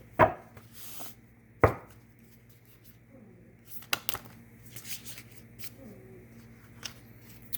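Starseed oracle cards are shuffled in a few sharp bursts and soft riffling handling sounds, separated by quiet pauses, close to the listener, with brief speech between.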